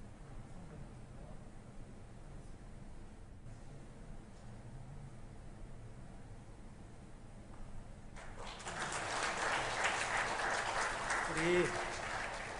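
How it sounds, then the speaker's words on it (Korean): A church congregation bursts into applause during a Sunday service, a broad wash of clapping that starts partway through after quiet room tone and a voice speaking, then continues strongly to the end. "우리 권사님 인사하실 때 우리 박수로 축복하시겠습니다"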